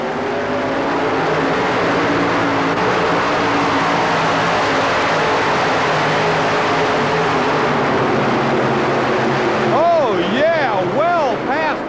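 A loud, roaring modified pulling tractor engine drones continuously at high revs during a tractor pull in the Houston Astrodome, 1991, with a pitch that warbles and wavers near the end.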